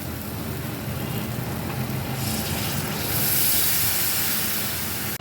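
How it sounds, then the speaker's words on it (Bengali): Water poured into masala frying in oil for a Bengali doi katla fish curry sets off a steady, close sizzling hiss that swells louder and brighter partway through, with no talking. "এবারে দেব জল।"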